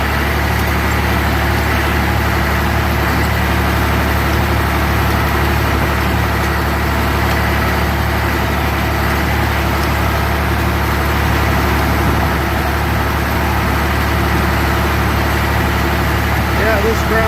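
A tractor engine drones loudly and without a break while tilling a dry field, a steady low rumble with a constant mechanical hum that holds for the whole stretch.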